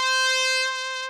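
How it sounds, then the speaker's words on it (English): A single trumpet stab one-shot from the Elements of Soul kit, real trumpet: one short, bright, sustained brass note with a clean tone that fades slightly over about a second, heard alone. "So I grabbed two of these trumpet stab one-shots from Elements of Soul"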